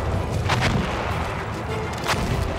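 Rifle shots in the World War I shooter Battlefield 1, a couple of sharp cracks close together followed by another shot two seconds later, all over a steady low rumble of battle background.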